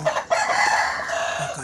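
Chickens close by, a rooster crowing with clucking hens around it, short and fairly loud.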